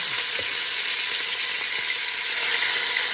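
Pork carnitas searing in a hot pan give off a steady, even sizzle and frying hiss that runs without a break, alone and fairly close.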